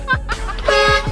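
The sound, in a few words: car horn honking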